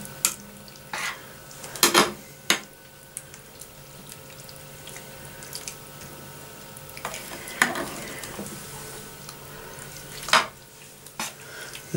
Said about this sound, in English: mix it all in now.